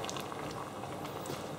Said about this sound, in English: Now with the wine, I'm just going to cook that off for a couple of minutes.